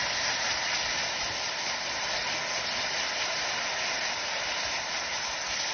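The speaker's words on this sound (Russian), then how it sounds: "Осторожно, не боимся кипения." A loud, steady hiss of furious boiling as cream hits hot caramel, bubbling continuously without any voices.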